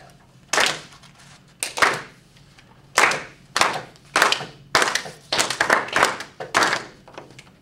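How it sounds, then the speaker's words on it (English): A class of students claps a rhythm together in a classroom, seven or eight loud, sharp group claps in a steady, slightly uneven pattern, the last few coming closer together. "let's clap the second one together"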